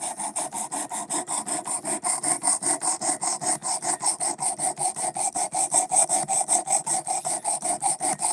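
Steady back-and-forth rasping of a knife edge and bevel being sharpened, even strokes repeating about four times per second, close and moderately loud with no talking.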